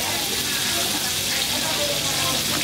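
Chili sautés in a pan with a dense, steady sizzle and hiss that holds at one level throughout, with no pauses.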